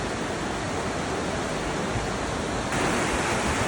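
The Aare river in Switzerland rushes strongly around a sharp bend, making a dense, constant roar of flowing water with no breaks and no voices.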